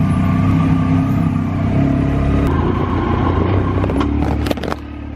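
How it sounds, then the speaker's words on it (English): A 2019 Yamaha YXZ1000R side-by-side runs steadily close by with a continuous low engine rumble, then a few knocks and scrapes before the motor drops off near the end. "let's go ahead and start up the YXZ and we'll pull it back there in the backyard"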